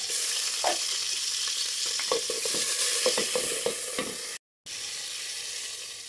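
Shrimp fry in a pan for a lentil dish, giving a close, steady sizzle. Irregular spattering pops and stirring clicks run through it, and it cuts out for a moment near the end.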